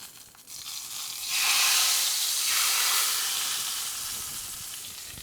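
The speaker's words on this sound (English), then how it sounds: "that sizzle, you want that, right? That's like the hot fat from the spice mixture interacting with the liquid content from our tomato sauce" Hot spiced fat hits tomato sauce in a pan for charred squid and blackened tomatoes, bursting into a loud, steady sizzle that swells after a second and slowly fades over several seconds, with no voices.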